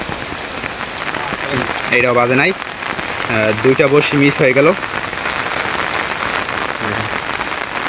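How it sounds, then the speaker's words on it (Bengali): Heavy rain pours down over a village wetland in a steady, loud hiss throughout, while someone speaks briefly in the middle. "আজকে সকাল থেকে বৃষ্টি নামতে আছে ভারী বৃষ্টি হয়েছে কিছুক্ষণ আগে"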